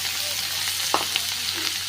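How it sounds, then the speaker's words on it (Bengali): Chopped onion fries with black cumin in a pan for a potato curry, a close, even sizzle with a couple of light stirring clinks. "পেঁয়াজ কুচিটা হালকা ব্রাউন করে ভেজে নেব"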